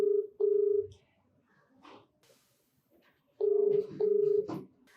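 Telephone keypad being dialed for a call, a series of short, clear tone beeps in two clusters separated by a quiet gap, with faint rustling between.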